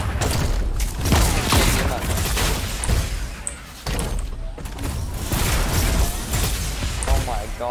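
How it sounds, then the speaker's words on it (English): Shotgun blasts and gunfire in a video game, loud and repeated over several seconds, with a person talking over the shooting. "Shoot the shotgun."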